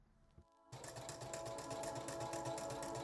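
A sewing machine runs a straight stitch down the long edge of a fabric strap for a crop top, starting after a brief near-silent pause and then droning steadily and loudly to the end.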